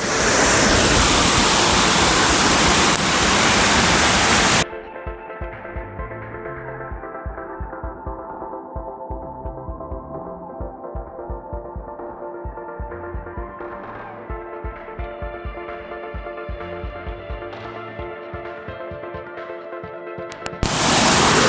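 Waterfall in the Maikal mountain range on the Madhya Pradesh–Chhattisgarh border, a loud steady roar of rushing water that cuts out into music partway through and returns at the very end.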